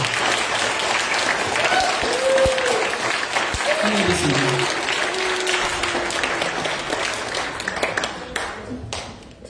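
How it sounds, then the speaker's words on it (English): An audience at a Scout court of honor gives a round of applause for a new First Class scout: dense clapping with a few cheers, fading gradually toward the end. "Can we please get a big round of applause for our new first class scout?"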